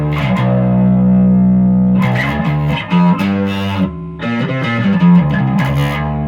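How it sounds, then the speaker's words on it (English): A bass guitar played through an OD300 overdrive distortion pedal, its gritty, fuzzy notes ringing out in a loud sustained phrase, then a pause and a run of shorter plucked notes with slides. "let's see what we can do with the OD300, the overdrive distortion"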